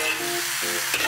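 Tofu goes into a hot wok of stir-fried vegetables and mushrooms, and a close, steady sizzle briefly rises as the pieces hit the pan. No voices are heard.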